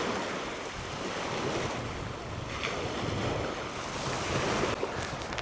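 Waves washing onto a beach in Anchorage, Alaska, a steady broadband roar of surf mixed with wind buffeting the microphone, continuous and fairly loud with no voices.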